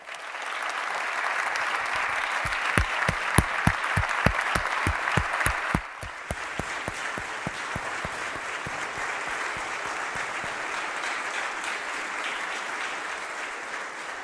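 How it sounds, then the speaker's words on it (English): A crowd applauds steadily with dense clapping, a few sharp close claps standing out early before the applause settles into an even wash. "Let's give them a round of applause, too."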